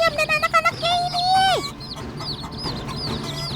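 Hen and her chicks calling close by, a run of clucks and high chirps up front, then a long sliding call and scattered peeps over faint background noise; no talk.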